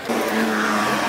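An AE86 car at a matsuri event doing a wheelie makes a loud, close burst of engine and tire noise that holds steady for about a second, with no voices.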